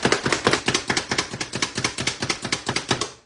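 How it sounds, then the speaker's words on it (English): Rapid, evenly spaced chopping strikes of a manual food chopper cutting vegetables, roughly six per second, sharp and close, a continuous rhythmic clatter with no talking. "I'm gonna grab my trusty 20-something-year-old food chopper."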